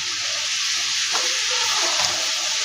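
Chilli and spices for chicken biryani fry in a pan with a loud, steady sizzle, while a few soft stirring scrapes and shifts surface briefly near the middle, close and with no speech.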